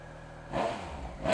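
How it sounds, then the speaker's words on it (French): Triumph Speed Triple RS motorcycle engine starting from a low idle-like hum, then a sudden loud rev burst followed by a second sharper blip, close by. "est-ce que tu peux me faire démarrer la Triumph s'il te plaît?"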